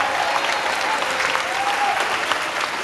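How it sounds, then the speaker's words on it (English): Audience applause aboard a cruise ship, brisk steady clapping from a crowd lasting a few seconds at moderate level. "Would you give them a big round of applause?"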